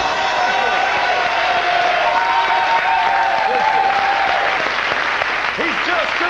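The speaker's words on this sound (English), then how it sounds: "let's have a big round of applause for the man who's keeping the scores" A television studio audience breaks into loud, sustained applause with some cheering, a dense wall of clapping that holds for several seconds while a host's voice carries over it.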